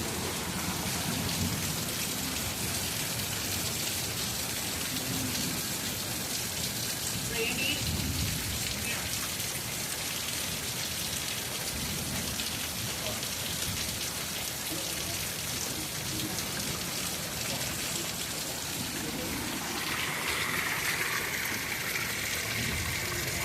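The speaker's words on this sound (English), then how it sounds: "Here comes more hail." Rain and hail falling during a spring storm, a dense continuous hiss of drops pelting surfaces with occasional heavier bursts, steady and close throughout, no speech audible.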